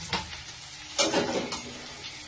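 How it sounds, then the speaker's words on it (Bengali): Onions and curry leaves fry in a kadai with a steady close sizzle, and louder crackling flares come with stirring scrapes, with no talking. "তো কড়াতে পেঁয়াজ দিয়ে দিলাম তাহলে কারি পাতাটা দিতে পারো"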